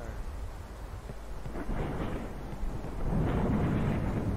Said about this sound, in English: Oh, that's lightning.